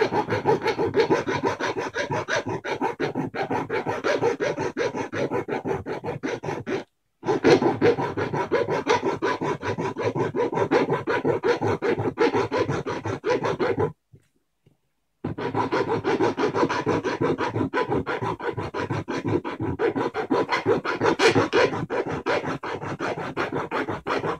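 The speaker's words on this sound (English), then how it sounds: "using a flat hand file, okay, I'm going to gradually start filing this down" Flat hand file rasps back and forth across a lightsaber prop part in rapid, steady close strokes, continuing for long stretches with two brief pauses.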